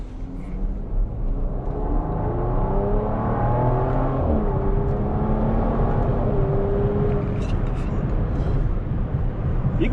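A 2020 Bentley Bentayga Speed SUV accelerating hard on paddle shifters, its engine rising and dropping in pitch through several gear changes, loud and close from inside the cabin.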